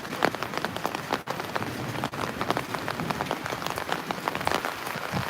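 Steady, dense rain pattering on a surface, a continuous hiss of drops with no voices.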